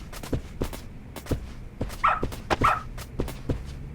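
Dog barking in the video game Lost Judgment: a few short, sharp barks and yips stand out over a busy in-game background of footsteps and ambient noise, with no talk.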